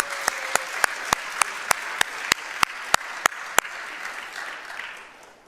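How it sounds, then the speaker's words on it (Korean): A church congregation applauding in a steady crowd wash, with a series of sharp, evenly spaced loud claps standing out near the front, the whole thing fading away at the end. "여러분 한번 박수 한번 보내주시겠어요?"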